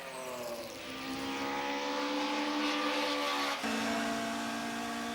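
Touring cars charge down the old Kyalami pit straight at around 190 km/h, a loud blended engine roar with rising and falling pitch as the field sweeps past, steady throughout with a brief dip near the end.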